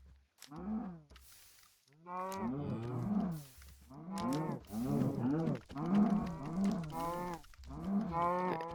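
Cows mooing in the Minecraft video game, a run of repeated loud moos and low bellows in quick succession, close and clear with no talk over them.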